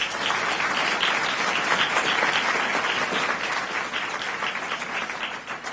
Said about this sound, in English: let's give our friends at Cincinnati State a round of applause as well.